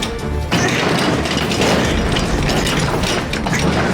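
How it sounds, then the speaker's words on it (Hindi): A door is forced and broken open with heavy crashing and thudding, a dense, loud, continuous clatter of splintering and banging that runs without pause from start to finish. "सौम्या, सौम्या थोड़ा सा और जोर लगाएंगे ना दरवाजा टूट जाएगा।"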